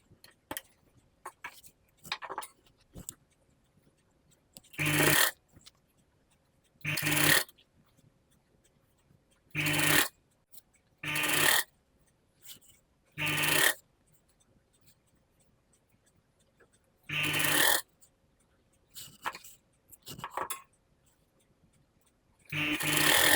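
A sewing machine stitches the side seam of a katori blouse in short bursts, each run of rapid needle clatter lasting a second or so, separated by quiet pauses and light handling sounds, close and clear.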